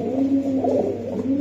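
Racing pigeons coo in low, throaty, rolling calls close by, a short run of overlapping murmurs without talk.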